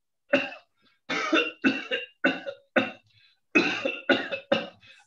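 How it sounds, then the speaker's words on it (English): A puppet character's series of about nine sharp, harsh coughs in quick bursts, close and fairly loud, with brief pauses between them and no talking. "So the character started coughing."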